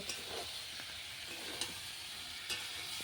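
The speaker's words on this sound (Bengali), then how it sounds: "এখন আমি সবজিটা ভালো করে কষিয়ে নিব" Jackfruit curry sautéing in a pan, a faint, continuous sizzle and hiss with a few soft clicks of a utensil stirring the vegetables.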